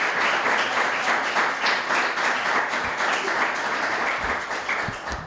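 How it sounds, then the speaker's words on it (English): An audience at a university advertising competition gives a round of applause for the judges, a dense, steady wash of clapping that is loud and close and lasts throughout. "quick round of applause for the judges"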